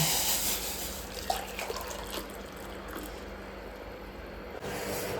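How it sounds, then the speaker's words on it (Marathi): Hot water poured out in a steady, close stream with a faint trickle and splash, fairly quiet and with no voices. "आपलं गरम पाणी झालेलं आहे, ओतून घेऊ."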